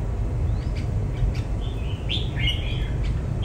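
A red-whiskered bulbul sings in short, bright chirps and whistled phrases, fairly near, over a steady low background rumble.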